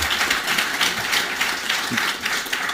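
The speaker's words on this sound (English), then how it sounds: "you can applaud again, a round of applause" Steady applause from an audience at a government meeting between Microsoft's Vice Chair and President Ramaphosa, a continuous dense wash of clapping at moderate level throughout.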